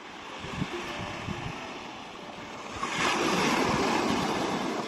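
Ocean waves on the calm, sheltered beach of Praia da Langosteira at Fisterra, near Cape Finisterre: a steady broadband wash of surf with wind noise, swelling louder midway as a wave rolls in.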